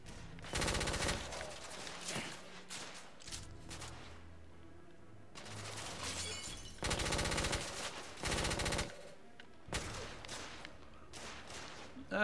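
Gunfire in The Order: 1886, several sharp, loud bursts of rapid automatic fire separated by quiet pauses, with low mechanical sounds in between.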